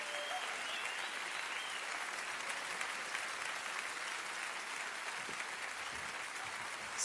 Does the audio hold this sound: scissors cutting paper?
no